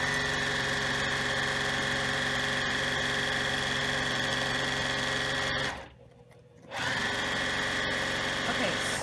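A Juki sewing machine runs fast and steady while stitching fabric strips for a string block, a continuous motor whir that stops briefly mid-way before resuming at the same pace.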